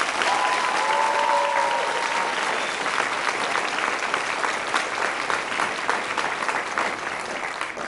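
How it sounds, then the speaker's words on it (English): An audience at a Brooklyn high school commencement applauds the graduating class, a full, continuous wash of clapping from a large crowd, steady and sustained throughout. "I would like to ask the audience to give a round of applause to our graduating class."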